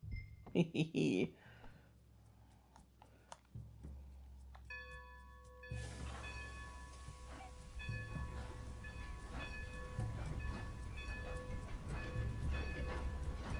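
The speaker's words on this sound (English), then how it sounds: "Time to start this train again." A steam train in the Red Dead Redemption 2 video game starts moving: a few knocks and a sustained bell-like tone, then a loud, continuous rumbling chug that swells and keeps running to the end.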